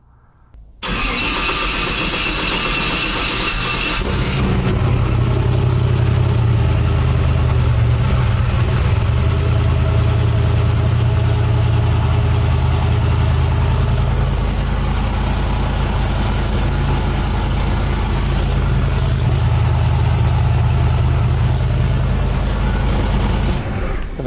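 A twin-turbo Camaro engine cranks briefly and then catches, settling into a loud, steady, rumbling idle with a deep low-end drone that continues without letup.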